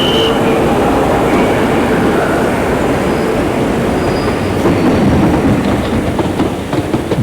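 A ScotRail train runs along the West Highland Line, a loud continuous rumble of wheels on track with faint rhythmic clatter and occasional squeals, sustained throughout without speech.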